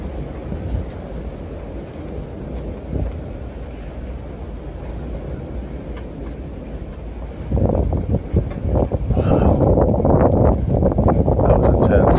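Wind gusts and rumbles across a porch during a lightning storm, a steady breathy roar that swells louder and rougher in the second half, close to the microphone.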